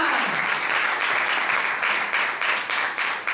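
A church congregation applauds in a steady, dense wash of clapping, loud and continuous throughout, with a few brief voices mixed in.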